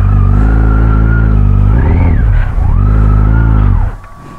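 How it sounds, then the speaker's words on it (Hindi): Kawasaki Z900 motorcycle revving hard on a slippery mountain track near Chandrataal, loud and close, its engine note rising and falling in two long surges as the rear wheel spins, then dropping to idle. "पूरी बाइक फिसल रही है।"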